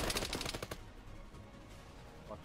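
Rapid automatic gunfire from the Arma 3 military shooter game, a dense burst of loud sharp shots for under a second, then a lower rumble of distant battle ambience.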